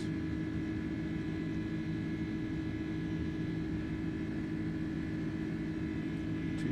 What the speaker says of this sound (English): Okay, so the aircraft is accelerating now.